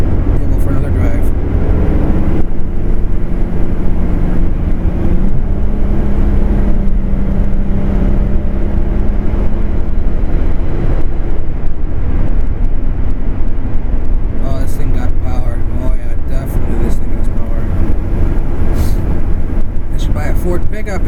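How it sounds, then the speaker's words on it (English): Ford pickup truck driving on a rural Wisconsin road: a steady, loud, low engine and road rumble heard from inside the cab throughout, with people talking over it. "Ford pickup instead of a car."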